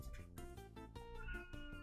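An indoor cat yowls loudly and insistently in a quick run of repeated meows, close by and with no voices over it.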